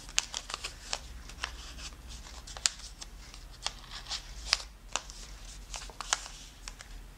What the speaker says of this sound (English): we are going to fold this flap over this edge and tuck it behind